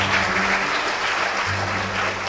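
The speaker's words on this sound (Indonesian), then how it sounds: "tepuk tangan dulu untuk Mbak Dok." Short burst of dense audience applause at an Indonesian talk show about travel writing, many hands clapping steadily for a couple of seconds with a faint hum underneath.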